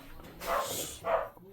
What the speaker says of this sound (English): My dogs are misbehaving.